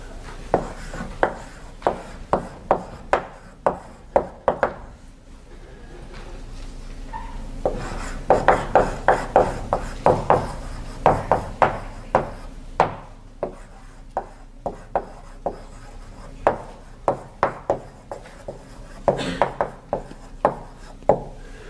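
Chalk strikes and scrapes across a blackboard in a lecture hall, producing a series of sharp taps and short scratchy strokes that come in bursts with brief pauses between them.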